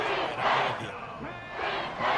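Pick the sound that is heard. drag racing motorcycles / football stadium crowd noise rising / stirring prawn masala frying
football stadium crowd noise rising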